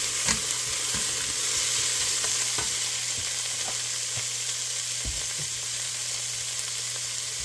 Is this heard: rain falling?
no